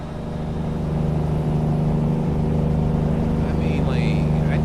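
A Kenworth T2000 truck engine in American Truck Simulator hums at a steady low idle or cruise, a quiet continuous drone with faint background noise and some talking over it.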